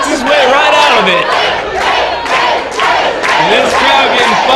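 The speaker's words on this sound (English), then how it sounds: "this crowd getting fired up behind Mariachi Loco" Wrestling crowd at an EWF anniversary show roaring and cheering for Mariachi Loco, loud and sustained, with swelling shouts and a commentator's voice running over it.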